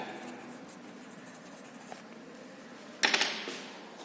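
A hand writing down a temperature reading during an Abel closed cup flash point practical: a short burst of pen scratching near the end, after a stretch of quiet room hiss.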